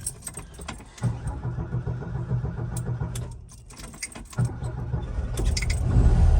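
A car with newly installed power-assisted steering starts up: keys jangle close by, then the engine turns over and settles into a steady rumble that grows louder toward the end, with no talking over it.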